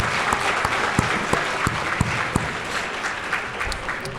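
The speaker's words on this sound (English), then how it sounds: "Can we just have a round of applause for all of our scholarship recipients and also our donors, please?" A breakfast audience at a college foundation scholarship celebration applauds recipients and donors with steady, full clapping from many hands throughout, a few nearer claps standing out.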